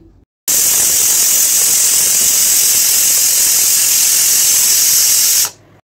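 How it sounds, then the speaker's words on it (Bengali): A pressure cooker boiling jackfruit lets out a single long, loud, steady whistle of hissing steam that starts abruptly and cuts off after about five seconds, heard up close and alone. "একটা সিটি দিয়ে কুকারটাকে আমি নামিয়ে নিয়েছি।"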